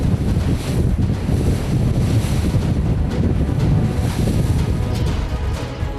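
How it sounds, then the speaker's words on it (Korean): Rough sea waves and strong wind buffet a fishing boat hunting skate off Heuksando, with loud continuous roaring gusts and crashing surf that stay close and steady throughout. "조금 전만 해도 잔잔했던 파도가 갑자기 거세진 것이다."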